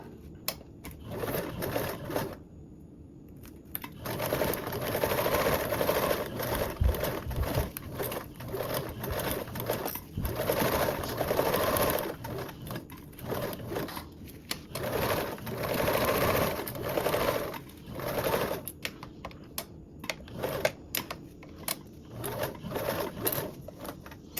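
A sewing machine bastes a toiletry bag seam, its needle chattering in rapid bursts that start and stop repeatedly, with short pauses between runs of stitching.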